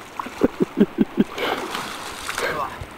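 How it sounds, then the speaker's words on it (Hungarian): Mountain stream water babbling and splashing high on an Alpine pass during a bicycle tour, a soft continuous wash of water with a few short vocal sounds at the start. "Hoho, csobog a víz."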